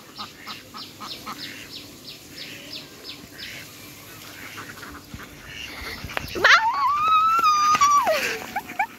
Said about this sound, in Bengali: আবার একটা দৌড়ানি দিই না হাঁসদের